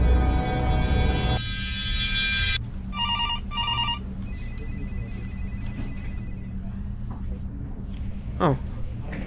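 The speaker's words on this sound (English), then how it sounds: "Your phone's going off for like 5 minutes." A phone rings in the video game Overtime, a loud electronic ringtone that cuts off, followed by a couple of shorter ring bursts over a low ambient hum, with a voice speaking.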